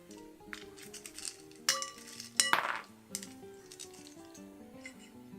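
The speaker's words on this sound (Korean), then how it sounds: "일단 면을 건진 다음에 얼음을 빼주도록 할게요" Chilled cold ramen noodles are lifted out and ice removed, giving a few close, loud clinks and clatters of ice against a metal bowl and utensils over a soft rustle, with no talk.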